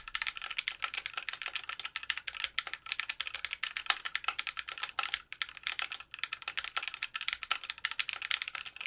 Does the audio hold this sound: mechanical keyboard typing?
yes